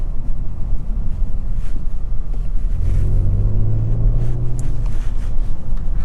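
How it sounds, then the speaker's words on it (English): The exhaust of a 2023 Kia Stinger GT2 AWD drones low and steady while driving, rising briefly in a swelling rumble midway, with wind and road noise around it. "you guys can hear in the sound clip, it definitely does have a little bit more of a enhanced sound when it comes to the exhaust system"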